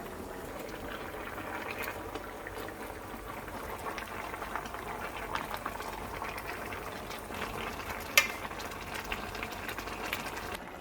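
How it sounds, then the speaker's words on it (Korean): Kimchi stew with pork back ribs simmers in a pot, giving a quiet, steady bubbling with soft popping and one brief clink partway through. "이렇게 어느 정도 끓은 다음에 중간에 한 번씩 뒤적여 주세요."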